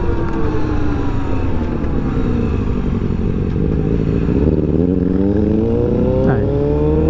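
A Honda XRE300 motorcycle on a Sunday ride drones loudly and close, its engine pitch climbing steadily as it accelerates, with no talk over it.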